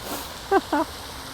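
Two short, nasal quacks sound in quick succession against a quiet outdoor background, fairly close by.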